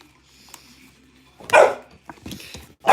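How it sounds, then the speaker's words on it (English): A dog barks sharply up close, a single loud bark followed by a few shorter yips and whimpers after a quiet stretch. "No barking."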